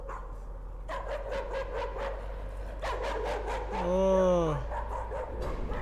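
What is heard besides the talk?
dog barking in video game Layers of Fear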